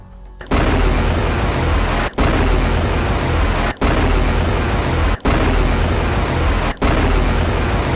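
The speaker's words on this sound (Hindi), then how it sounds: "इसके बाद मिशहर बेस पर रॉकेटों का जत्था फायर किया गया" Rocket barrage launched at Meron base in northern Israel by Hezbollah: five loud, sustained roaring bursts of about 1.5 s each, cut by short near-silent gaps, with broadband noise rumbling through the low end.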